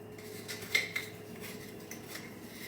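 A metal spoon clinks faintly against a container as tablespoons of salt go into pickling liquid, making a couple of light taps near the start, then quiet scraping, all close and soft.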